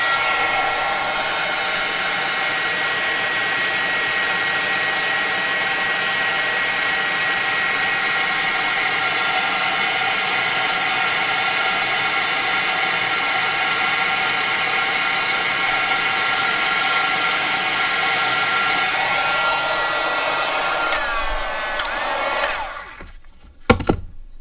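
An embossing heat tool runs at a steady, loud, close whooshing roar for about twenty seconds, warming up to melt embossing powder on stamped paper, then is switched off and winds down.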